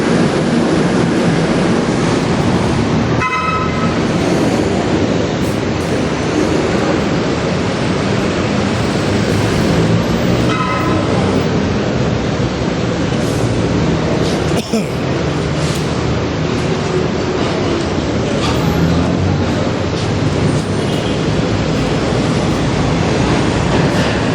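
An LRT 1 light rail train in Manila rumbles steadily for a long stretch, loud and close, with occasional clicks, squeals and rattles of the cars.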